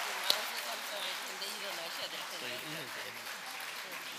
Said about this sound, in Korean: 다시 한번 뜨거운 감사의 박수를